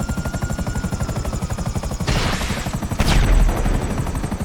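A GTA Online helicopter's rotor beats in a fast, loud, steady thump, joined partway through by two bursts of harsh noise that sound like gunfire or impacts over the whirring.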